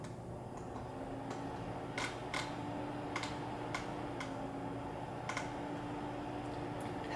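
Sparse, quiet keystrokes on a computer keyboard click at irregular intervals over a steady low hum, with no talking.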